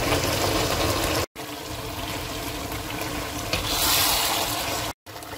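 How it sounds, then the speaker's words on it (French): Water poured steadily into a cooking pot for Senegalese couscous, a loud continuous gushing splash, briefly cut off twice. "Je mets l'eau, la moitié d'abord de l'eau, donc il faudra 3 litres à peu près."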